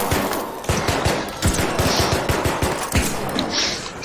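Rapid bursts of gunfire during a PvP fight in the video game Arc Raiders, with repeated sharp shotgun blasts and other shots in an uneven, clustered rhythm, loud and close throughout.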